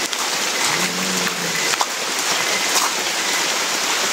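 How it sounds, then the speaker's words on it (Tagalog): Heavy rain pours down in a dense, steady hiss, close and unbroken, with a few sharper drops standing out. "Grabe sobrang ulan."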